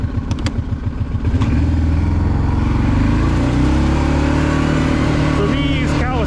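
Kawasaki Prairie 650 ATV starts moving, with an engine rattling at idle that rises into a loud, steady, close drone as it drives off, plus some clatter near the end.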